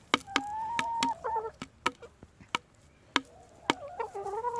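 Backyard chooks in Australia clucking close by, with sharp, irregular pecking-like clicks and short rising cluck phrases scattered across a few seconds, otherwise quiet with no talking.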